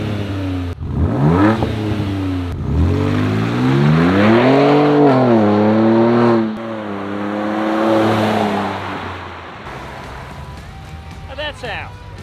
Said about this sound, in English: Let's start with the exhaust. We're gonna start with the best one, the loudest one.